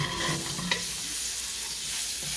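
Garlic and ginger powder sizzle in a hot pan while being stirred, a steady close frying hiss broken by a few light scraping strokes.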